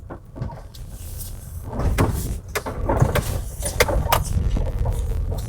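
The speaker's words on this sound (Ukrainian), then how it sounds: "Зараз ми з вами пострибаємо по трамвайним реєчкам, послухаємо підвізку." Muffled thumps and knocks from a Hyundai H-1 CRDi manual van's suspension as it rolls over tram rails, with low road rumble and a few sharp rattles inside the cabin.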